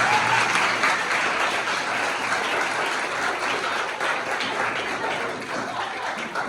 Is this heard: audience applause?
yes